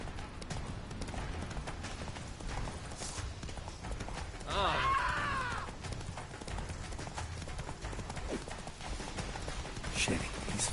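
Hooves of a horse in The Witcher video game clip-clop steadily at a gallop beneath continuous game music and effects, with a brief whinny-like flourish partway through.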